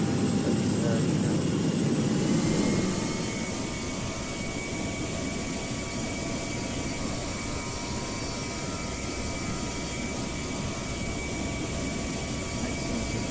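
A321 airliner taxiing in a flight simulator game on the ground at London Heathrow, a steady jet engine roar with a faint high whine held throughout, louder in the first couple of seconds before settling.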